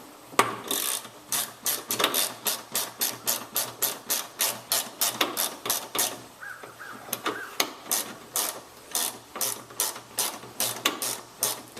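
Ratchet clicking in quick, steady bursts while headlight bulbs are swapped on a Pontiac G6, close and clear with a rapid rhythmic pawl chatter and no talk.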